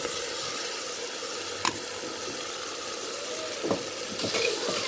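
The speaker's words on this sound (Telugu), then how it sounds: "ఇప్పుడు అల్లం వెల్లుల్లి పేస్ట్ వేసుకోవాలి." Ginger garlic paste frying in a pan, a steady, bright sizzle held at moderate level throughout, with a few brief scraping knocks from stirring and a slight swell toward the end.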